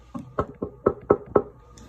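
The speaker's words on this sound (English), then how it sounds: "I reach Sayori's house and knock on the door" Knocks land on a door at Sayori's house in the Doki Doki Literature Club video game, six firm raps in an uneven series, close and alone.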